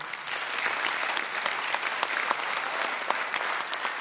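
An audience at a Diwali poetry gathering claps steadily for several seconds, a dense patter of many hands at an even, moderate level.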